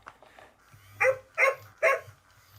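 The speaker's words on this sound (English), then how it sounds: "I think it's a very fun dog, mechanical dog or robot dog." A Hasbro Joy for All robot companion dog gives three short, evenly spaced electronic barks, close and clear, after a quiet mechanical lead-in.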